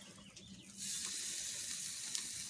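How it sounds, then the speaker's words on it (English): Small steaks sizzle loudly on a little BBQ grill over hardwood, a steady close hiss that swells after a quieter start and continues unbroken to the end. "So I'm gonna grill up some of these little steaks here"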